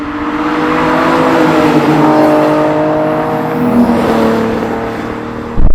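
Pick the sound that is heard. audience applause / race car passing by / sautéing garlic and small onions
race car passing by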